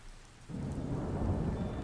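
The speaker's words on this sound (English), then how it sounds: "I'm staying out of the rain, Cecil." Rain and rolling thunder in the video game Sky: Children of the Light, with a deep rumble swelling in after a quieter half-second of rainfall, then a steady loud downpour with no voices.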